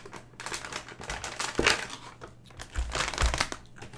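A Gigabyte G1 Gaming RX470 graphics card pulled from its packaging, with close crinkling and crumpling of plastic and cardboard in irregular bursts, rustling continuously at moderate level.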